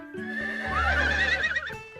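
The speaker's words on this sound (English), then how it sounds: "Our horses sure are noisy today." A horse in the Horseland cartoon lets out one long, loud, wavering whinny up close, with faint hoof clip-clop under it and no speech.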